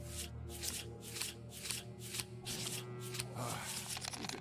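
Cards in the fantasy card game Foretales are drawn with a rapid run of soft papery swishes and flicks, close and light, while someone talks in French over them.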